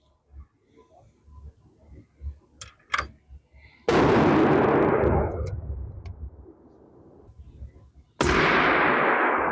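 Two loud, sharp 6.5 Creedmoor rifle shots during load testing at a range, each cracking out and rolling off in a long echo, preceded by faint handling clicks and rustling.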